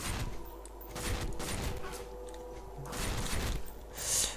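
Gunfire rattles in a zombie mode video game, bursts of rapid shots swelling and fading in several clusters, moderately loud with a sharp crack near the end.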